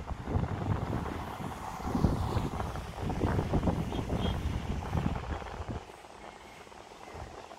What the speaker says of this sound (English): So it's pretty windy out there.